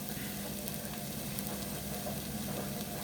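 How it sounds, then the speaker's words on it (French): Onions sweating in a pan as a French cook prepares turkey roast with carrots and turnips, giving a steady soft sizzle and faint crackle throughout, low and even, with no voices. "Là mes oignons ils ont bien sué"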